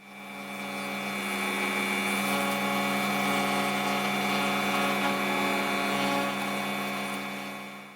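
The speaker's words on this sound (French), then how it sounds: "Je les enlève avec la fraise à affleurer et ça fait nickel." A router with a flush trim bit cuts away wooden tabs, a loud, steady high-pitched whine with grinding cut noise running continuously close up, then spinning down at the end.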